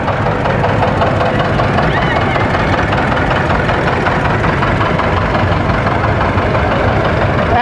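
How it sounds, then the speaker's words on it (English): A powerful Allis-Chalmers 720 diesel tractor engine runs steadily at an outdoor cotton gin festival, a loud, continuous low rumble with a rough knocking texture and crowd noise mixed in. "Powerful tractor."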